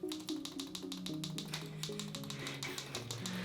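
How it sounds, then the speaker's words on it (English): Rapid, fairly even clicks from the buttons of a fidget cube, close and crisp, tapping repeatedly for a few seconds with a steady background hum and no talking. "some of them click with like a sound"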